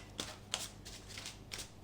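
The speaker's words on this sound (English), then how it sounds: "I'm going to shuffle them again on the camera" A deck of tarot cards is shuffled in quick, soft riffling bursts, three short papery flurries close to the listener in a quiet room.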